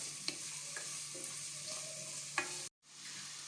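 Sliced onions sauté in a pan for Kerala-style prawn roast, with a faint, steady sizzle, a few light spatula taps and a brief drop to silence near the end.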